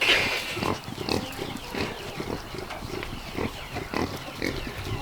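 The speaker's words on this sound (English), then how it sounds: "Good pig. Hey, good pig." Pig grunts in a barn during farm chores, a run of short rough snorts and grunts repeating irregularly at close range over steady barn background noise.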